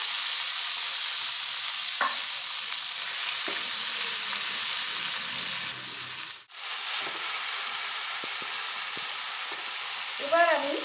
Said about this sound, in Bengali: টমেটোটা দিয়ে নাড়বো এর মধ্যে নুন দিয়ে দেবো যাতে সফট হয়ে যায়